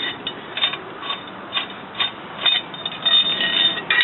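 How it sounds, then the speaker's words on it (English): Repeated ratcheting clicks and mechanical turning from an axle seal installation tool being unscrewed on a 1998 Dodge Ram 1500 4x4 axle, coming in close bursts that grow denser toward the end. "I'm gonna go ahead and take this loose, and then we'll unscrew the tool and pull it out."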